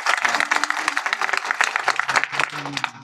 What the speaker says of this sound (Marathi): काय टाळी वाजवलीत बघा ना